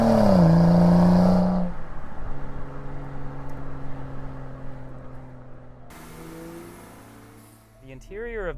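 A BMW E90 335i accelerates hard, its engine note rising through a gear before easing off into a steady road drone, with a voice talking over it.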